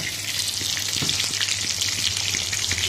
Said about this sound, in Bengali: কাতলা মাছগুলো ভেজে নিচ্ছি।